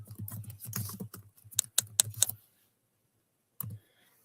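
Computer keyboard typing in a quiet room: a run of soft clattering keystrokes for about two seconds, then a pause and one more short burst of keys.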